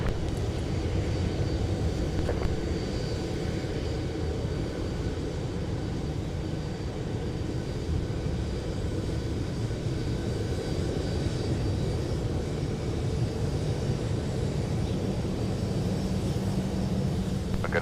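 A passenger airplane roars steadily during landing at snowy winter Minneapolis–Saint Paul airport, its engine noise a loud, continuous rumble with no talking.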